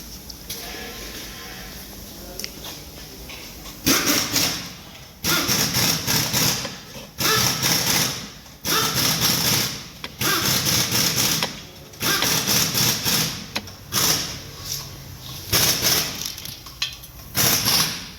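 A car engine runs with a badly worn clutch whose disc is worn down to the rivets, giving a steady mechanical whirring that comes in loud bursts separated by brief dips, close by and with no talk over it.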